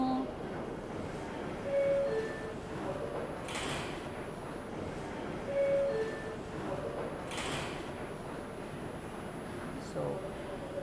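New York City subway platform at the last stop of the 5 train, with a steady station rumble, a few two-tone door chimes and the sliding of train doors, and a voice talking now and then.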